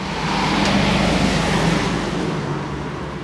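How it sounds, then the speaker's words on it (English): A truck passes along a road, a loud, steady engine and tire roar rising near the start and holding close before easing off slightly at the end. "Wait for this truck to go by."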